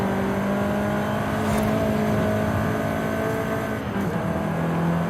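A 2014 Volkswagen Golf R with all-wheel drive accelerates hard on a track, its engine a loud, steady, continuous drone with no letup across the whole stretch.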